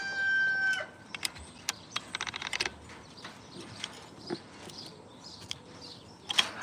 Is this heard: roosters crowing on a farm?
yes